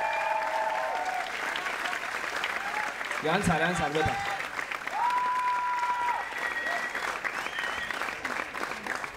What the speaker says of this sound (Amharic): ሞቅ ባለ ጭብጨባ የታጀበ ምስጋናችን ይድረስልን